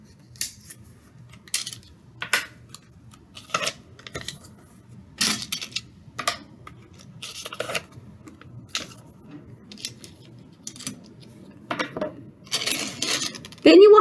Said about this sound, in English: take their coins and put them in the pile with the other coins that are the same